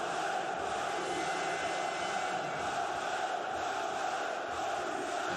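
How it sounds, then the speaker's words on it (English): A packed arena crowd at a EuroCup basketball game between Partizan and Badalona gives off a steady, dense roar that holds without a break. "And listen to this crowd."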